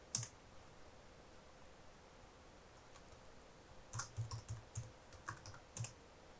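Someone types a command on a computer keyboard, first with a single click and then a soft cluster of quick keystrokes. The tapping is faint and close against a quiet room hum.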